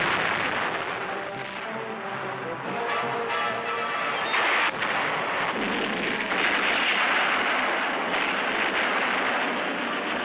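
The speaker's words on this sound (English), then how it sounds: "Now, enemy fire is heavy." Heavy enemy fire during the World War II Marine beach landing on Guam, a dense, continuous roar of artillery and gunfire with muffled blasts, harsh and distorted as in old newsreel sound.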